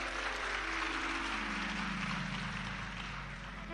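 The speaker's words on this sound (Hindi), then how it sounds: "ताली बजाने से कुछ नहीं होगा री जीजियो" An audience claps steadily throughout a Hindu devotional talk on Ram Navami, a dense, continuous wash of applause that tapers slightly toward the end.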